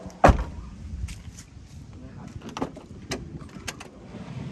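Electric power windows on a Honda Civic EK whir up and down beside a sharp click and scattered knocks, with someone talking over the motor sound.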